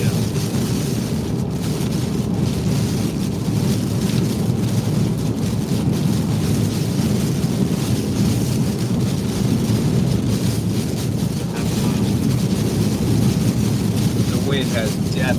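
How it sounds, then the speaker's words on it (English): Strong wind from Hurricane Ian buffets the microphone in Charleston, South Carolina, a constant loud roaring rumble that does not let up. "The wind has definitely picked up."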